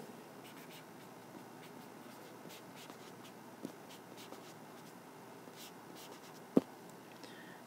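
Pen or pencil writing out an algebra formula, soft intermittent scratching strokes near and faint over quiet room tone, with a couple of small taps.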